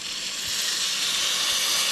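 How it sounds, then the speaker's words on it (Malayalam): Washed wet rice hits a hot pot for potato rice, giving a loud, continuous close hiss of sizzling steam that holds steady for a couple of seconds, with no voices. "അപ്പം അരിക്കകത്തൊന്ന് സ്വല്പം വെള്ളമുണ്ട്, അപ്പോൾ അതിൻ്റെയാണ് ഒച്ചയൊക്കെ കഴിക്കുന്നത്."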